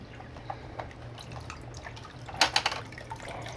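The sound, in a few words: residual water dripping from aquarium canister filter with lid removed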